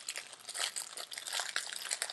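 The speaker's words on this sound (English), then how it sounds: "I'm making so much noise crinkling." Plastic packaging crinkling close up while a new aquarium automatic top-off system is unpacked, a dense run of crisp crackles and rustles that continues without pause.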